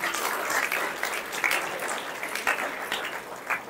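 Audience applause at a school farewell and prize distribution programme, a steady loud wash of clapping that swells and ebbs over several seconds, with no speech.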